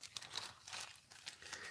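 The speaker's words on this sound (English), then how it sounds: "Just give me a second to open them." A small plastic bag holding light gray resin model kit parts is opened, with quiet, intermittent crinkles and rustles in short bursts, close and soft.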